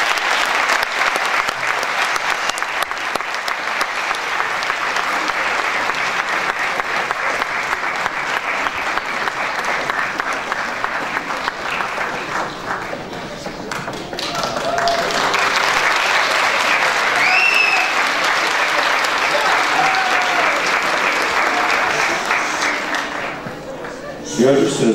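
An audience at a spring concert of a folk music choir in Rotterdam applauds the singers taking the stage, with sustained loud clapping that dips briefly then swells again, and occasional voices and whistles within.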